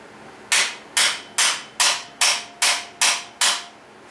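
A hammer strikes a pin punch held in a metal vise eight times in an even rhythm, each blow a sharp, close metallic clang with a short ringing decay.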